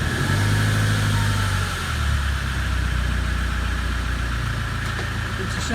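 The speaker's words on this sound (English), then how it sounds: "Here the engine revs automatically rise." A stationary vehicle's engine runs in gear inside a garage, a loud steady drone with low rumbling harmonics that shift slightly as the revs change, close and continuous throughout.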